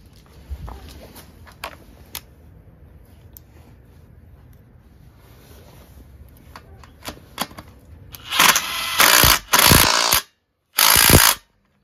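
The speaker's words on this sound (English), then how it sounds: "So I'll just drive these two back in there" Engine sump bolts being driven back in with a power tool, heard as a few loud, close buzzing bursts after a stretch of quiet clicks and handling noises.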